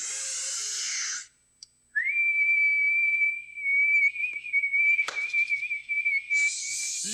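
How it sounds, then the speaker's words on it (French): A long, steady high whistle held for several seconds, with a brief upward slide at the start and a clattering noise partway through. "Si un siffleux sait siffler, on peut siffler nous aussi."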